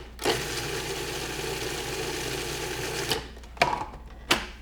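A food processor runs in one long burst and then several short pulses, blending a creamy pesto dressing made with silken tofu, loud and close with no talking.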